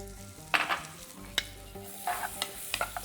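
Roughly sliced onions sauté in melted Lurpak butter for a butter chicken makhani gravy, with a steady close sizzle broken by several sharp stirring scrapes and clatters.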